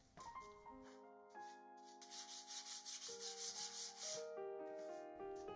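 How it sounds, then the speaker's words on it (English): 180 grit sandpaper is rubbed over a gesso-coated MDF artist panel in steady back-and-forth strokes. The rhythmic scratching sits under soft background music. "Now that the panel is dry, I sand it with 180 grit sanding paper."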